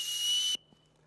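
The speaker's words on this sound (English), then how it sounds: "The very last thing that this Lowepro has is a built-in whistle, believe it or not." A whistle built into a Lowepro Whistler BP 350 AW camera backpack blown once, a loud, sustained shrill tone for about half a second, close to the microphone, then cutting off to near silence.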